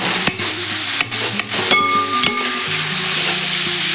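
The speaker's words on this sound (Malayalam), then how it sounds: "എന്നിട്ട് നന്നായി ഇളക്കി അതിൽ എല്ലാം മാറ്റി കഷ്ണങ്ങൾ ഇങ്ങനെ ഉടച്ച് ഒരു തോരൻ പരുവത്തിലാക്കിയെടുക്കണം." Chicken thoran, a traditional Kerala chicken sauté, is stirred and mashed in a pan, giving a loud run of clattering scrapes and knocks over a steady sizzle, with no voices.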